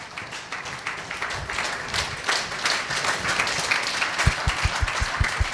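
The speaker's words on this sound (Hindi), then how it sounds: "आप खुद के लिए तालियां बजाइए" An audience at a retreat program in Jaipur applauding, a broad sustained wash of many clapping hands, with a run of low, rhythmic thumps near the end.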